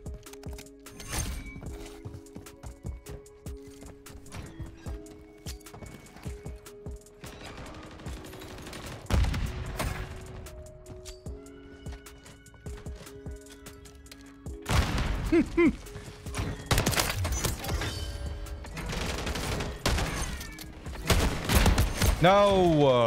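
Lockwood 680 shotgun fired in a first-person shooter game, sharp shots scattered among other gunfire and game effects, growing denser and louder toward the end, with a player talking over parts of it.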